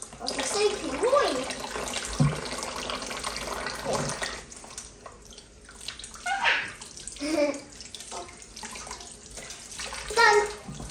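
Hot water runs from a tap into a home bathtub in a steady, close rushing stream, with a voice and other voices heard over the flow.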